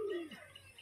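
A giribaz pigeon gives a short, faint coo that slides downward at the start, then trails into quiet room noise.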